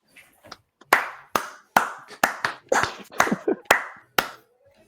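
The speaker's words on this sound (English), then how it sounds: "clap it up for Port, man." A small number of sharp, close hand claps, about a dozen in an uneven rhythm, start softly and then strike loudly with brief gaps between them and no talking.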